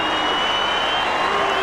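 A stadium crowd at a 1999 Fremantle Dockers versus Sydney Swans football match applauds and cheers in a steady, dense wash of clapping from the Dockers cheer squad.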